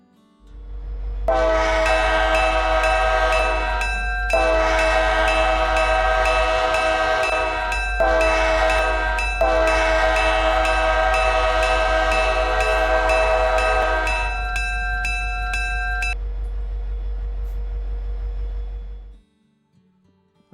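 An SW1500 locomotive in the Roblox video game sounds a loud multi-tone horn in several long blasts over a constant low engine drone, which continues alone before cutting off.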